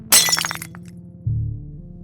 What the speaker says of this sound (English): A deafening crash echoed through the quiet room as her coffee mug shattered on the floor.